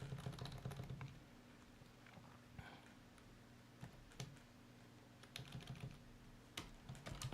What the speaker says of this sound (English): I should read what I'm typing.